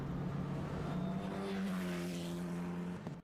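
Race car on track with brakes locking up, a sustained tonal tire squeal and skid over steady engine noise, loud and close, cutting off abruptly near the end.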